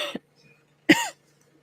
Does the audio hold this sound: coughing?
yes